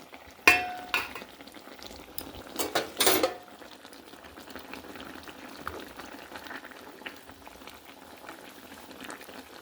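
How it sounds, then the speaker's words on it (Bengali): Fish curry broth with bata labeo fish at a rolling boil in a pot, a soft continuous bubbling that stays low and steady, with a few louder clinks and knocks near the start and no talking. "ঝোলটা খুব ভালো করে ফুটে গেছে"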